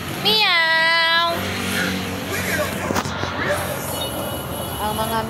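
A cat meows loudly and up close in a few drawn-out, wavering cries, with voices and background traffic noise around it.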